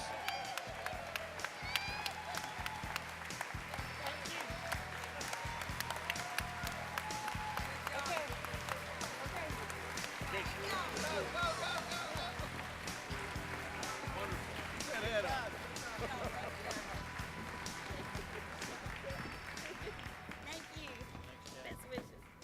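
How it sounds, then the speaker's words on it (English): Convention audience gives a sustained round of applause for district and regional leaders, steady loud clapping from a large hall crowd with scattered cheers and a voice briefly over it. "Let's give them another round of applause."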